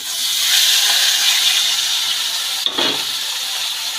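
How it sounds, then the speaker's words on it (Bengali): Fish fat frying in hot oil for a greens dish gives a steady, fairly loud sizzling hiss that runs the whole time, broken by one brief knock near the end, with no talking. "এবার মাছের তেলটা ওই তেলের মধ্যে দিয়ে ভালো করে একটু ভেজে নেবো মাছের তেলটা তেলের মধ্যে দিয়ে দিলাম"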